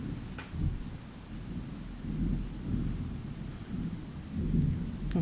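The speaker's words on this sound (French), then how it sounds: "Comme vous entendez, il y a l'orage." Distant thunderstorm rumbling at night, a low continuous roll of thunder swelling and fading over about five seconds, with faint rain patter and no voices.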